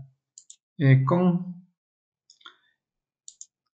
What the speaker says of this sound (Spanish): Clic, clic y doble clic.